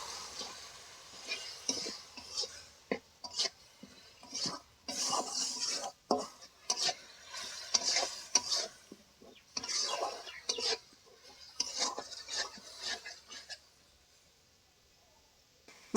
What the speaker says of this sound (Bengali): অল্প জল দিব যাতে পুড়ে না যায় এবার ভালোভাবে মিশিয়ে কষে নেবো